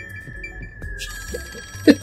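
A phone rings in a Master Detective Archives: Rain Code game scene, a steady electronic ringing tone with a sharper louder burst near the end.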